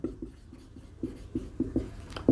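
Writing on a board during a Hindi vocabulary lesson, a run of soft, close taps and short strokes in an uneven rhythm that grow slightly louder toward the end, with no speech.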